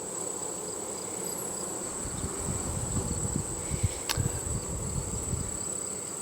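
Honey bees buzzing at a storm-damaged hive in late fall, a dense continuous hum of many insects close by with a steady high whine above it and no talking.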